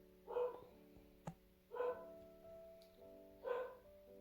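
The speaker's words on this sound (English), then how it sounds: "That's my dog. Someone's at the door." A small cockapoo barks at someone at the door: three separate sharp barks spaced about a second and a half apart, fairly close, over a low steady household hum.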